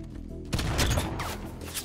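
Gunfire in the online multiplayer shooter Halo 5: Guardians, Breakout mode, bursts in about halfway through, a dense volley of shots filling the rest, loud and close.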